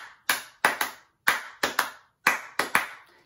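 Hands clap out a swung rhythm, long-short pairs of sharp, close claps repeating in three groups with gaps between, dry and alone without any talking.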